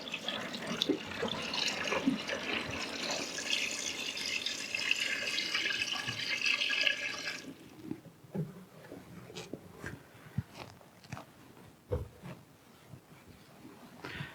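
Water pours steadily from a jerry can into the drum of a small caravan washing machine for the rinse cycle, a continuous splashing fill that stops partway, followed by quieter handling knocks and clicks.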